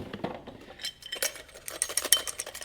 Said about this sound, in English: that's the sound of hardware.